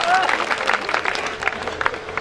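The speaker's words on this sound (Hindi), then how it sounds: "एक बार जोरदार ताली बजाओ सर के लिए" Audience at a Hindi comedy kavi sammelan in Ramdev Chowk, Nokha, breaking into loud applause for a guest, dense clapping close by with a brief voice at the start.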